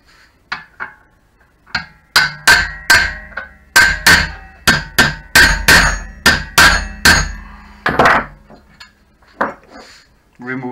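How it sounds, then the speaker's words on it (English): A hammer strikes a metal punch tool to drive out the pulley of a Tacx Flux T2900 trainer, giving a loud series of sharp metallic clanks in a quick, fairly regular rhythm with a few scattered lighter taps. "Therefore we need the punch tool and the hammer."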